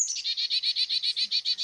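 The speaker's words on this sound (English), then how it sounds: "That is a tufted titmouse." A tufted titmouse calls alone in a quick, even series of about a dozen high whistled notes, clear and fairly close.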